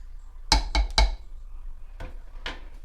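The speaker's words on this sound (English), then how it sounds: "you just want to give it a quick stir about halfway through. Get all the meatballs good and coated" Several hard clacks and scrapes of a spoon against the crock of a slow cooker while meatballs are stirred, a quick cluster near the start and two more knocks later, close and alone.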